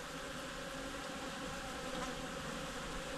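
Honey bees in a large colony inside a hive box hum in a dense, steady drone, loud and unbroken throughout, with no voices over it.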